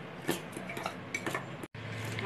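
Wheat flour dough being mixed with salt, garam masala and chili powder in a bowl for a snack, giving repeated soft clinks and scrapes of utensil against dish close by, with a brief gap near the end.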